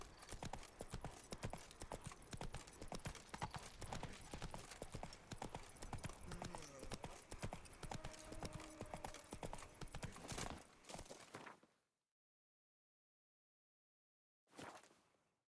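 In The Witcher 3, Geralt's horse Roach gallops in a rapid, even clip-clop of hooves for about eleven seconds, loud and close, with a brief snort, then silence and a short final burst.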